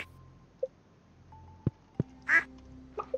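A duck in Stardew Valley gives one short nasal quack amid a few sparse game clicks and soft tones, all fairly quiet and with no talk.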